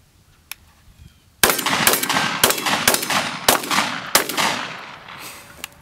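Shotgun blasts at clay popper targets outdoors, six loud sharp reports fired in quick succession after a brief quiet lead-in, each with a short ringing decay.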